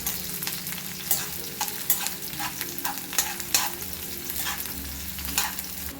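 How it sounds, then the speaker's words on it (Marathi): Chopped onions frying in oil and stirred in a pan until reddish for a Makar Sankranti meal, a steady close sizzle with repeated scraping stirs and clinks. "कांदा लालसर होईपर्यंत आपल्याला परतवून घ्यायचा आहे"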